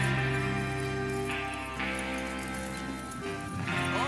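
Rhythmic hoofbeats of horses on the move in Red Dead Redemption 2 sound under a steady musical backdrop, a continuous clip-clop with no talking.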